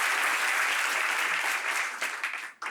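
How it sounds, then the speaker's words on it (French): A crowd claps loudly and steadily for a few seconds before the applause thins out and fades. "on peut les applaudir très fort"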